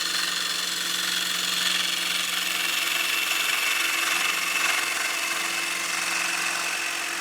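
A gouge cuts a wooden platter spinning on a wood lathe, producing a steady, close, hissing scrape over the constant hum of the lathe motor, continuous with no pauses.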